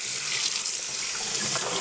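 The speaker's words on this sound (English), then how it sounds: "I'll give it a quick rinse" Tap water runs steadily over juicer parts being rinsed in a sink, a continuous close splashing hiss with no talk.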